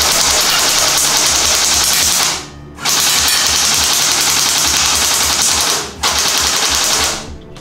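An F4 Superior gel blaster firing 8 mm gel balls at the label of a 100Plus bottle: loud, rapid full-auto bursts in three long strings separated by brief pauses, close and with no talking.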